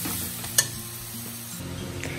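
Ginger and garlic fry in oil in a pan, giving a soft steady sizzle with a brief sharp clink of a utensil against the pan near the start.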